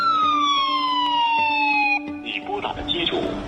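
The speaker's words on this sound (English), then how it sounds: "they play a siren that tells you your credit score sucks" Synthetic siren sound effect from a phone credit-score ad, a loud steady wail with falling pitch sweeps, cutting to music and clattering effects about two seconds in.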